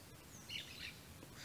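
Faint, brief bird chirps sound in the distance over a quiet, low background hum.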